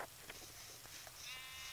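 Sheep bleating in a survival video game, a few short faint bleats over quiet background with no talk.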